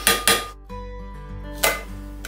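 A metal steamer tray set down onto a rice cooker pot gives two sharp clanks close together, a short pause, then a third clank with a ringing metallic decay in a quiet kitchen.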